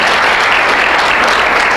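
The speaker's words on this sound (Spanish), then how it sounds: "Dele un aplauso fuerte al Señor si lo va a hacer." A church congregation at a sermon breaks into loud, sustained applause, a dense, even wash of many hands clapping close by with no voices on top.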